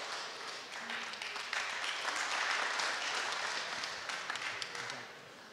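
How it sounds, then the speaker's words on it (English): A room full of people gives a warm, steady round of applause for a candidate at a university spring election question time for president, with dense, continuous clapping at moderate distance and no talk over it. "Let's give another warm round of applause to our third candidate for the night"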